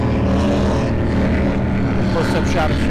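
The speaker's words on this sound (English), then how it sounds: "you can hear that firm boat bouncing off the rev limiter, trying to get everything they can out of it" Racing powerboat at the Englewood Beach Waterfest roaring past, its engine buzzing hard against the rev limiter in a loud continuous drone, with a commentator talking over it.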